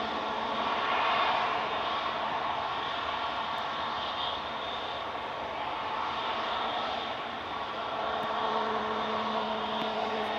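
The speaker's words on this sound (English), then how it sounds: "What's Cessna citation? Touching down, CSDXZ. For NetJets Europe." Cessna Citation business jet of NetJets Europe touching down at Manchester Airport, its engines giving a steady, loud broadband roar with a high whine that holds evenly for about ten seconds, no voices.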